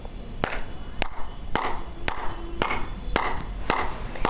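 Eight firm, evenly spaced hand claps, about two per second, ring out crisply in a quiet room as a yoga clapping technique is performed with full palms and fingers.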